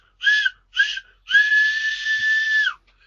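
A railway train whistle on a Lancashire line sounds two short, shrill toots and then one long sustained blast, loud and clear against an otherwise quiet background.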